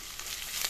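Turmeric, chili, coriander and cumin powders fry in hot oil for a fish curry in a pressure cooker, a brief steady hiss of sizzling, close and fairly soft, with no talk.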